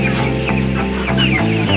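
A flock of young Jamaica chickens clucks loudly and continuously at feeding time, with overlapping close clucks and squawks forming a dense, steady chorus.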